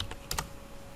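Several quick keystrokes on a computer keyboard while a command is typed, a short cluster of light clicks close by in a quiet room with a faint steady hum.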